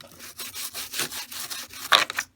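A brush scrubs back and forth over miniature plastic tank models being stripped of paint, producing rapid, rhythmic rasping strokes that are close and fairly loud, with a harsher burst near the end.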